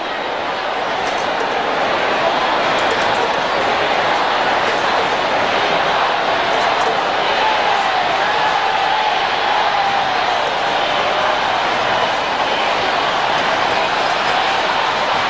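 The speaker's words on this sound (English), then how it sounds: "They're chanting, "We want Campbell."" Hostile cricket crowd at an abandoned match chanting a player's name, a dense, steady roar of many voices filling the whole stretch with no break, loud and continuous.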